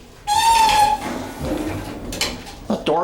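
A Schindler 400A machine-room-less traction elevator door squeaks with a high, sustained whine as it closes, then rumbles and thuds softly, ending with a couple of clicks.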